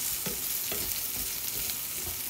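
Onion and garlic sauté together in a pan, giving a dense, close sizzle with a few soft stirring scrapes over a short stretch.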